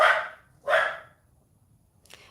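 Dogs barking at wildlife outside house windows, two loud separate barks followed by a fainter, brief bark after a pause, heard alone without talk.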